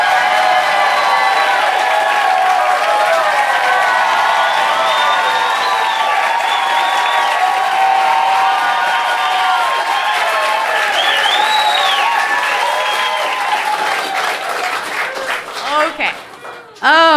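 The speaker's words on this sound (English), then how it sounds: "please put your hands together for Ms. Brooke Van Poplin" An audience at a comedy show in Austin applauds and cheers for a comedian, dense sustained clapping with whoops rising over it, tapering off near the end.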